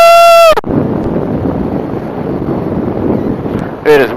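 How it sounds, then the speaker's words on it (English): Strong wind roars steadily against the microphone outdoors, a loud, unbroken rush framed by brief tonal sounds at the start and end. "It is windy down here, folks."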